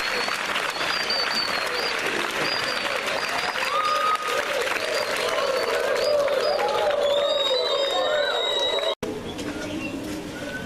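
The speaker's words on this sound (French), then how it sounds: "C'est pourquoi je vous prie de bien vouloir applaudir pour la poste." Applause from an audience at an association event, steady and continuous crowd clapping with birds cooing and whistling over it and voices faintly present.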